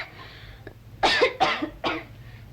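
Three harsh, bursty coughs from a woman, close and fairly loud, following a faint low hum, with no speech, set in a 1970 Malay village drama.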